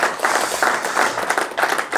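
Theater audience applauding in a steady, dense wash of clapping, loud and close, with no break across the short span.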